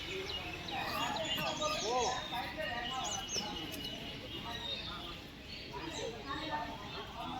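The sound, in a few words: koels and sparrows calling at temple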